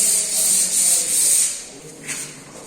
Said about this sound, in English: I can see painters doing a touch-up of or rubbing the extra layers of putty on the walls